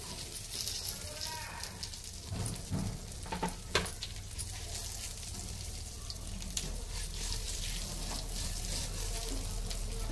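Chopped amla (Indian gooseberry) goes into a hot pan for chutney and fries with a steady loud sizzle, punctuated by a few stirring scrapes, continuing throughout.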